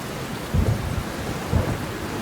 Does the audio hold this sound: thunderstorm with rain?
yes